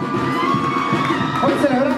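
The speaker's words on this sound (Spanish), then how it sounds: "vamos a brindarle un fuerte aplauso a" Guests at a Mexican-themed quinceañera clap and cheer loudly and steadily, a dense crowd roar with whoops rising over continuous applause, close and full throughout.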